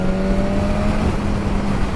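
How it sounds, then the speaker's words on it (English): A 2019 BMW S1000RR sportbike at full power in fifth gear near 60 mph overtaking a car, its engine a loud sustained drone with a steady rising pitch and heavy wind rush. "Let's try a fifth gear overtake at 60 miles an hour"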